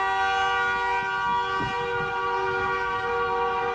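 Car horns blare from a street vendors' protest motorcade arriving at a regional government complex, a loud, sustained, steady chorus of honking that fills the whole stretch without speech.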